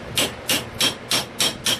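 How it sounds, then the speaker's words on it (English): Hammer beating on the pins of a knife handle during epoxying, six evenly spaced, sharp metallic strikes in a steady rhythm, close and loud with no talking. "Always make sure you're supported when you're beating on your knife with a hammer"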